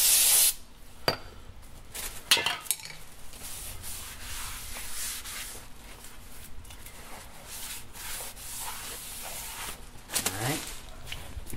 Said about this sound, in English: I always like to wipe the rotors down with a little brake clean, remove any fingerprints or light oil deposits that may be on there